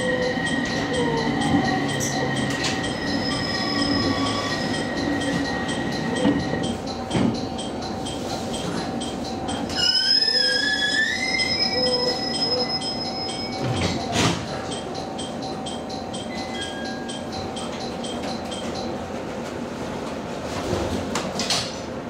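A JR East E721 series train on the Senzan Line pulls into Yamadera station, heard from inside the car: steady rolling rumble, tonal motor whine rising and falling, brake squeal as it slows, and door chimes near the end.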